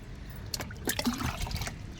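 Water splashes and trickles in short pours onto potted plants, fairly quiet, with no talking.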